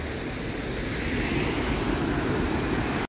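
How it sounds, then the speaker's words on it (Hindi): Waterfall water pouring from above at Robbers Cave, a broad, steady roar of rushing water, loud and continuous with no talk. "ये बहता हुआ पानी कितना खूबसूरत लग रहा है। ये है पूरा झरना सा आता है ऊपर से नीचे"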